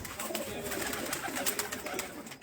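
Pigeons coo softly on a rooftop, a low murmur of repeated calls with light rustling, faint and steady under a voice talking.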